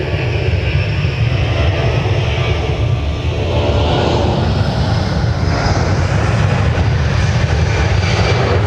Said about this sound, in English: The Southwest 737 on its way out to Denver, Colorado.